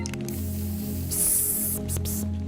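A personal repair spray for treating open wounds in the horror game Hollowbody gives a loud hissing burst of about a second, followed by a couple of shorter puffs, all over a steady musical drone.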